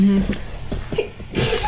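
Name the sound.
sneeze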